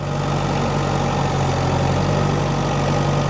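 A tractor's engine runs steadily at a low idle-like drone while hauling boiler wood on sloping ground, a constant loud hum with no talk over it.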